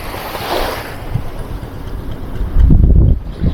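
Gusty wind buffets the microphone with low rumbling bursts, over a background wash of water or surf; no one speaks.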